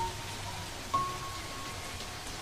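Steady rain hisses evenly over the Serengeti plain, a heavy downpour with no thunder or talk, just a constant wash of falling water throughout.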